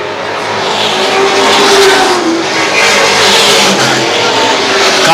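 Late model race cars roaring down the back straight at Star Speedway, a loud continuous engine drone as the pack passes close by, with commentary running faintly underneath.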